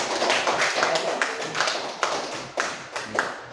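Classroom applause for a group of students after their presentation, a short burst of brisk, fairly close clapping from several pairs of hands with irregular sharp peaks.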